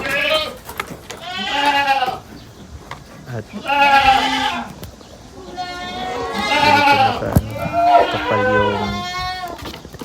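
Several goats bleat in loud, wavering cries one after another, close by on a farm in Taiwan, with a person's voice briefly heard among them.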